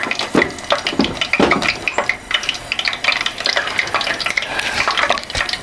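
Hot oil is poured onto chili flakes for red-hot chilli oil, giving a close, busy sizzle and crackle with irregular stirring and liquid splashes throughout.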